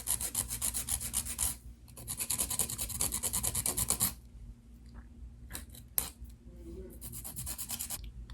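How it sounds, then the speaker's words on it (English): Acrylic nails filed with a coarse nail file: rapid rhythmic rasping strokes in close bursts, pausing briefly between passes, then a few scattered scrapes and taps before more steady filing. "you can feel free to just go back in with your file and remove some excess"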